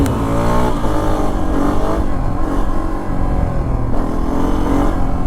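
A 250F dual sport motorcycle engine revs hard and unevenly while the rider holds a wheelie on the back wheel, the close, loud exhaust rising and falling in rapid throttle bursts.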